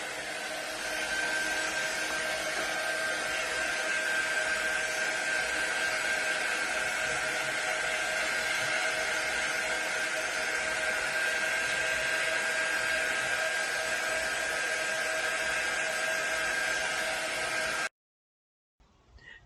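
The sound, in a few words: hair dryer drying a DIY kitchen sign transfer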